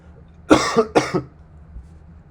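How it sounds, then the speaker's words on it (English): Two sharp coughs in quick succession, close and loud, followed by quiet. "I have a little bit of a cough"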